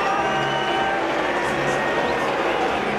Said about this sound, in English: Frequent booing, not only for the Australian skipper who relinquished the 3rd Test captaincy today, but also other members of the Australian side